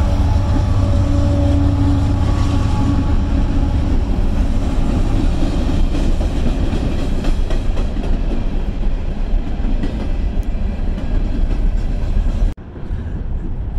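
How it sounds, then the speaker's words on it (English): A train rumbles past close by, loud and steady with rhythmic clatter of wheels on rails, then cuts off abruptly near the end. "Oh, here it is, the train."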